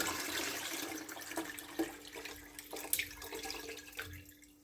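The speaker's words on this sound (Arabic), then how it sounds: "لازم نصفيه كويس عشان ميبقاش فيه اي رواسب من الليمون" Lemon water being poured through a strainer while making homemade hard soap from used oil and lemon peel, a close, uneven trickle and splash of liquid with a few sharper drips, steady throughout.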